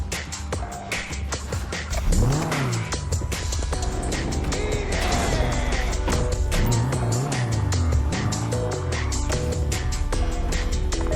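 A car is driven in GTA Online, with a steady engine drone, rising and falling revs and tire squeals over a constant rattling clatter, loud and close for the whole stretch.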